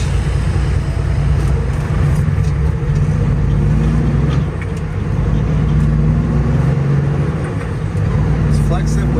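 A semi truck pulls a trailer loaded with steel coils, its engine a loud, steady low drone heard from inside the cab, with road rumble throughout and no clear speech.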